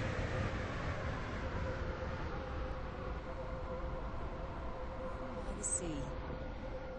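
An in-game train from Stepford County Railway, a video game, approaching Edgemead station: a continuous rumbling rail noise with a steady tonal whine, heard from inside the train, with faint tonal traces near the end.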